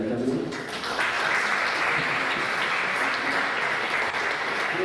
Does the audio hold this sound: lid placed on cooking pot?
no